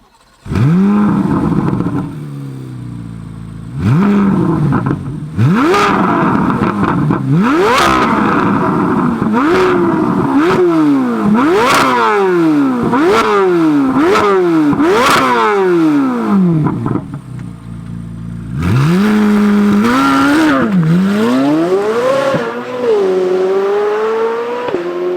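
A 2023 Chevrolet Corvette C8 Z06 engine starts, then rises through a series of sharp, loud revs that climb and fall back repeatedly, a brief lull and another pair of high revs, close up with no talking.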